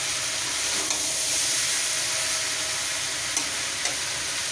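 Fenugreek seeds and ginger frying in a pan, a loud continuous sizzle with a few light stirring clicks of the spoon, close and steady throughout, with no voices.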